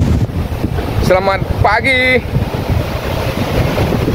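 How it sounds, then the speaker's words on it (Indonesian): Strong wind gusting over an island beach at Air Manis, Padang, with surf washing in, a steady roaring rush throughout; someone briefly speaks a greeting over it near the start. "anginnya kenceng banget"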